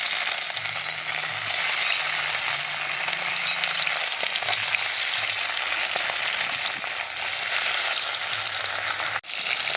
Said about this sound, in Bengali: তো ভোলা মাছগুলোকে আমরা এখানে সব দিয়ে আর খুব ভালো করে ভাজা করে নেব